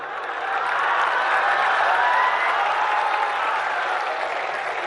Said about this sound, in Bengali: কি শেষ করার জন্য হাততালি দিচ্ছেন